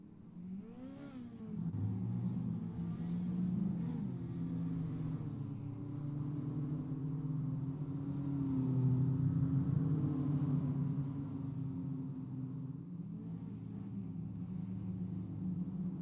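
Rookie dirt mini stock race cars circling the track at I-55 Raceway, a distant continuous engine drone that rises and falls in pitch as the cars accelerate and pass, heard from afar without talk.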